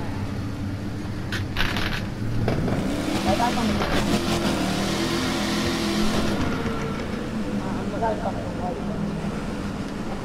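Dodge Ram Rebel pickup in The Crew 2 driving game, a steady engine drone running throughout with some revving swells, heard under people chatting.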